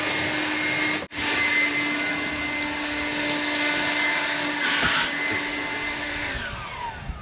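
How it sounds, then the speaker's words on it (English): A DeWalt leaf blower blows leaves out of a jon boat, a loud steady whine with a sharp momentary cutout near the start, then continuous blowing that eases off slightly at the end. "we'll go ahead and use the DeWalt leaf blower to get all these leaves out of here"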